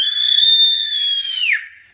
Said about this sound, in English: don't forget to scream.